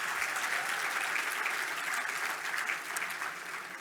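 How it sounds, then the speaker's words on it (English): A crowd claps at a business excellence awards evening, a sustained dense round of applause that holds steady and eases slightly toward the end, with no speech over it. "Give them a big round of applause."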